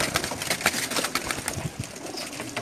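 Pigeons on a rooftop loft, including a female, with repeated soft cooing and wing flutters over steady outdoor background noise; no talking.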